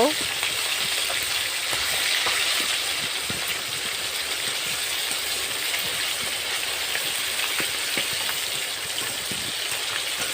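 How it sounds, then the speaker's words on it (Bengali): Silver carp pieces frying in hot oil in a pan, a steady dense sizzle and crackle running throughout at close range with no talk over it. "মাছগুলো ভাজা হয়ে গেছে প্রায়, এরপর আমি উঠিয়ে নেব।"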